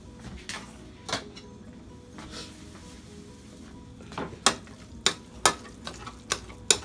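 An iron spoon smashes steamed, seasoned food in a pot or bowl: a series of sharp metallic knocks, sparse at first and then quicker and louder near the end, close up over a low background hiss.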